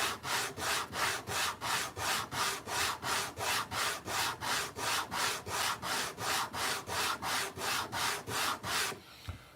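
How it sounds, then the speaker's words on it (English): Leather edges are burnished by hand, producing a steady back-and-forth rubbing rhythm of about twenty even strokes, close and moderately loud, ending abruptly. "So when you burnish it,"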